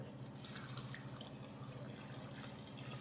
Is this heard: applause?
no